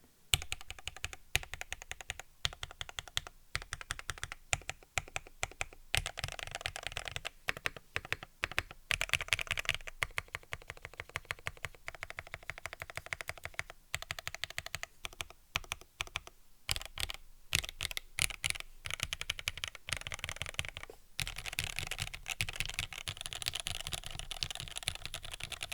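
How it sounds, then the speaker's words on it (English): Fingers type steadily on a custom-built KFE CE mechanical computer keyboard, making a quiet, dense patter of key clicks that runs for about twenty-five seconds with brief pauses and no speech. "my typing sucks."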